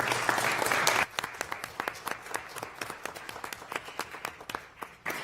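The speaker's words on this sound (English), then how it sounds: "So I know we were applauding Michaela for her comments." A board meeting's room breaks into applause, dense clapping at first that quickly thins into scattered, separate claps from a smaller group, fairly distant.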